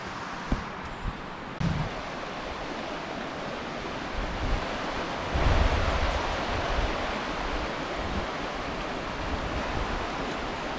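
Creek water in Spearfish Canyon, South Dakota, gives a steady, moderately loud broadband rush throughout, with no voices.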